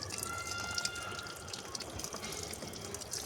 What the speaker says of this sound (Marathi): असं पाणी टाकून घ्यायचं आहे चांगलं झाडावर.